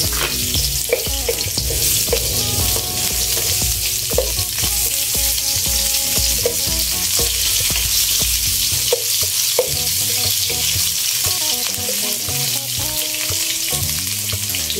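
Onion frying in a hot pan with steady, loud sizzling and occasional stirring scrapes throughout, no voices.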